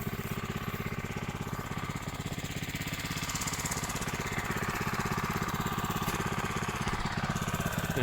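An old Japanese mini tiller's small engine runs steadily nearby, a fast rhythmic chugging putter that holds even throughout while ploughing soil.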